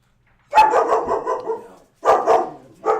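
A dog barks and howls in drawn-out, wavering bursts as someone arrives at the house, three close, loud outbursts separated by brief pauses, with no talking.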